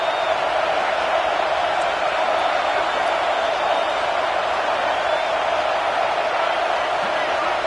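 A stadium crowd roars in a college football video game, a dense, steady wall of cheering noise that holds at an even, loud level throughout.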